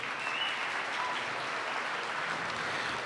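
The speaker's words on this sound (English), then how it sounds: "Let's give another round of applause for all of them." Steady, dense applause from an awards-ceremony audience cheering a group of nominees, a continuous wash of many hands clapping with no pauses, moderately loud and even throughout.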